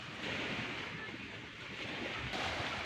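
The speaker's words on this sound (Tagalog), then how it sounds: "Kaharap po tayo dito sa dagat" Sea waves washing on the shore in a Filipino fishing setting, a continuous broad rushing wash with wind noise buffeting the microphone, no talk.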